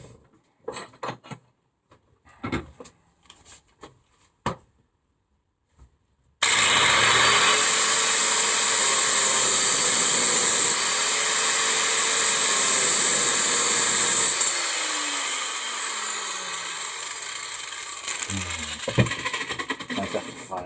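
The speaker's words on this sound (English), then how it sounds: "So what I've got to try and do now, get that grinder in there." Angle grinder skimming a steel suspension part for a V12 kit car, a loud continuous whine and grinding that starts abruptly after a few seconds of quiet knocks and handling, with pitch dipping as the disc loads up.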